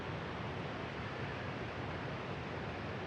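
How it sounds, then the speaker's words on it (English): Active waterfall in a forest, a steady, dense broadband rush of falling water that fills the whole clip evenly, fairly loud and continuous with no voices over it. "We are in a beautiful forest with an active waterfall behind us that you might be able to hear on the"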